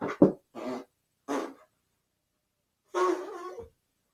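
A few short, muffled dog barks or yips in quick bursts, then a longer whine-like vocalization, with silence between.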